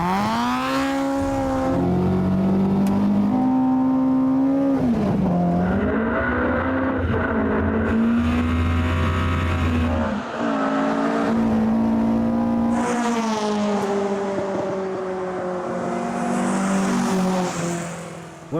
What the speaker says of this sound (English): They'll race from a standing start for a quarter of a mile.